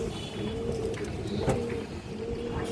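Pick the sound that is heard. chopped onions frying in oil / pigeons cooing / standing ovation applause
pigeons cooing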